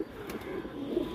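A pigeon coos in a low, rolling murmur, soft and close, with its throaty call rising and falling without pause.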